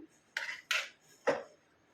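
Boiled dal being tipped into a bowl, heard as three distinct clinks and scrapes of a utensil against the dish, close and clear with no talking.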